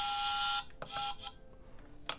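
A buzzer sounds loudly for about half a second, a steady electronic tone, followed by a few short clicks and faint clatter.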